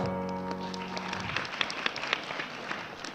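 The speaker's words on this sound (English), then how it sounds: "Okay, give an applause." An audience at a diplomatic forum on ASEAN tourism breaks into applause: a crowd of hands clapping steadily and fairly close, following a voice heard briefly at the start.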